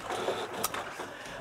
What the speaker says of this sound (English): Printer's making lots more whirring noises.